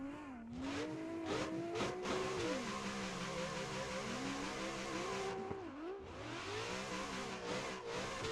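A race car engine in the Assetto Corsa video game revs hard while drifting, its pitch climbing and falling through repeated throttle sweeps, with a brief drop near the middle before it surges again, loud and continuous.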